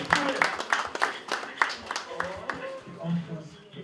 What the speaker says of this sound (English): Let's give our easy another one round of applause.